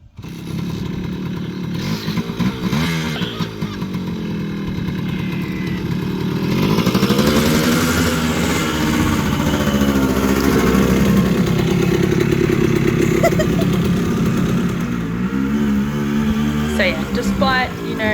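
A 1974 G4TR100 motorcycle engine runs and revs, rising from a rough idle into a sustained louder drone with shifting pitch, then settling again, with a voice talking over it near the start.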